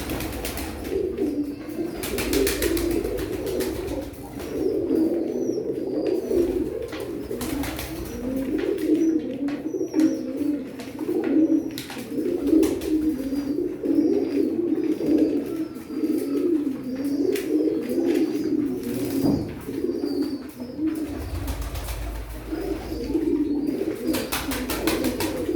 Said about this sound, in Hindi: ये भी सियालकोटी कबूतर मोती वाला